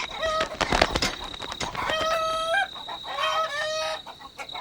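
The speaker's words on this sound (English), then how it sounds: "Henry, the rooster behaves heroically, doing everything he can to keep the coop safe from attack" A rooster and hens cluck and squawk in agitated bursts, with rising calls layered over a busy, rustling background.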